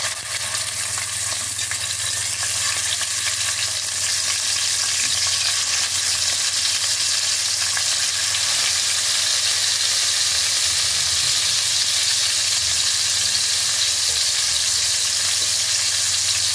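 Salted fish frying in hot oil, with a steady, continuous sizzle and crackle close up throughout, unchanging in level and with no voices.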